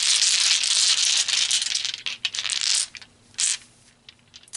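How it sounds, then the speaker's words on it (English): Tarot dice rolling and clattering across a surface, a dense bright rattle for about two seconds that breaks into a few shorter tumbling bursts and a last small click, fairly close, with no talking. "So let's pull some tarot dice."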